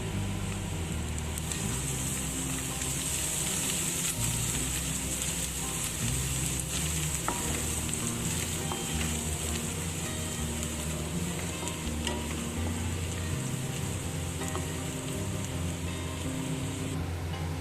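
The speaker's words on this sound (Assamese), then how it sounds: "মছলাখিনি প্ৰায় ফ্ৰাই হৈ গৈছে।" Ground cumin, coriander, black pepper and turmeric sizzle in oil in a pan while cooking for an Assamese fish curry, a loud continuous crackling hiss with faint stirring scrapes throughout.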